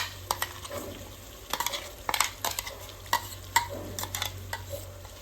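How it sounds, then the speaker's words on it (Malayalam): Frying masala for chicken biryani (tomato with ground garlic, ginger and green chili) stirred in a pan: repeated close scrapes and clinks over a low, continuous sizzle. "മസാല മൂക്കണ വരെ നന്നായിട്ട് ഇളക്കിക്കൊണ്ടിരിക്കുകയാണ്"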